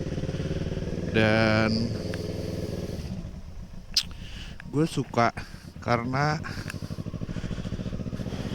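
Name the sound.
Kawasaki ER6n motorcycle engine revving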